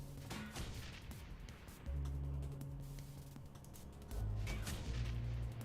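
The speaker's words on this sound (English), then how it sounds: "just firing grenades off in this convention center" Grenades firing in the Shadowrun Returns video game inside a convention center, a run of dull booming blasts and crashes layered together at moderate level, with no talk.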